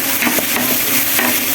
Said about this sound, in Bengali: সসটা দিয়ে আমি এখন একটু নাড়াচাড়া করে দিয়ে নিচ্ছি